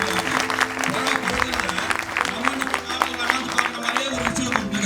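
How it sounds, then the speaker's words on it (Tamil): An audience at a film event breaks into lively, uneven applause, mixed with crowd noise and voices. "நல்ல கரகோஷம்"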